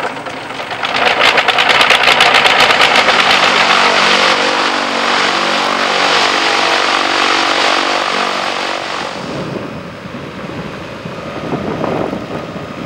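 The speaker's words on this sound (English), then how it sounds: "the reluctant engine at last splutters to life" An aircraft's reluctant engine splutters to life, its choppy sputters giving way to a loud, steady close-up roar that holds for several seconds before dropping back to a lower rumble.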